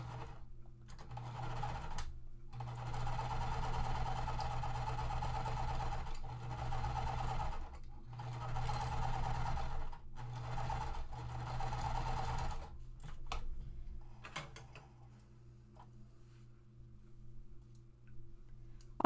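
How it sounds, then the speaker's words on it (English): A sewing machine runs a seam across quilt fabric, its motor humming and needle chattering close by in long runs broken by brief stops, then fading to quiet clicks. "now that I've sewn that seam across"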